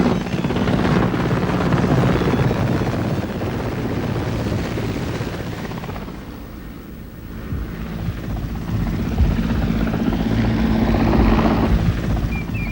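The helicopter carrying the president of Pakistan comes in to land at the Shandur Pass polo ground, with a steady loud rotor roar and wind rumble that dips briefly and then swells again.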